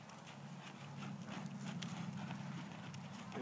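Horse hooves beat a steady canter rhythm during a riding clinic, the repeated thuds continuous and moderately close over a low rumbling background, with no voices.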